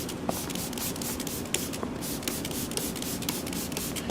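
Disinfectant sprayed over the seats of a gym, a continuous close hiss with small rubbing and handling noises and faint clicks scattered through it, no voices.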